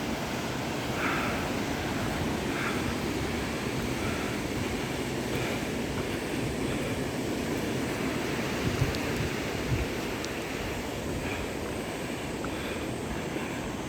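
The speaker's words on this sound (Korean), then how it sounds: "아, 아주 바다가 멋있습니다 파도도" Sea waves wash onto a beach at the Samcheok sculpture park in a steady, broad roar of surf that lasts throughout, with no talking over it.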